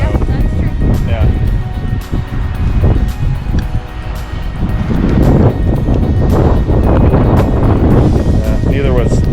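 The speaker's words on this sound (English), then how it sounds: "it's super windy out" Strong gusting wind buffets the microphone at an old mining site, producing loud, uneven low rumbles and bursts that rise and fall, with people talking throughout.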